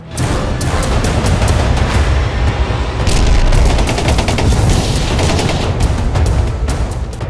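Sustained gunfire and explosions in the Gaza war, dense bursts of rapid shots layered over heavy booms, loud and continuous throughout with no speech.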